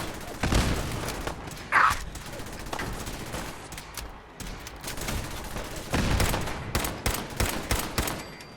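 Video game battle gunfire: rapid bursts of shots and heavier blasts in clusters, loud and close, with brief pauses between volleys.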